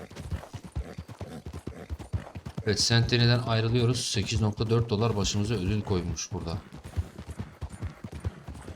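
Horse hooves in Red Dead Online clip-clop in a steady galloping rhythm throughout, close and clear, while someone talks over them.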